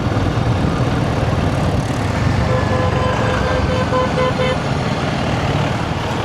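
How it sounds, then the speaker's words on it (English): Vehicle horns beep repeatedly in short toots over steady, close traffic rumble on a road in Rajasthan, India. "You'll probably notice there's lots of horn beeping going on the roads here."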